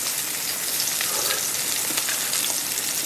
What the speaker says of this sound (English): So I'm going to stir this together, then I'm going to taste it.